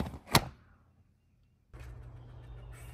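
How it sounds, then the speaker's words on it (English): A magnetic flap on an Endura Flap pet door with an aluminum interior snaps shut with one sharp, close knock, followed by quiet and then a steady low background hum. "It has this magnet that will snap back when they go through."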